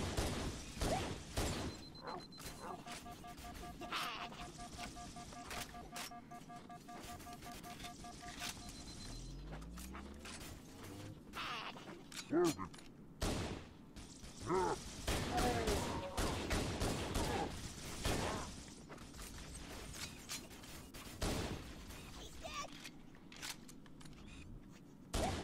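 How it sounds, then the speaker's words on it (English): Halo gunfire arrives from both sides in sharp, rapid bursts and scattered single shots, mixed with mechanical clicks and whirs, fairly quiet overall and continuing across the whole stretch. "They have both sides shooting at me."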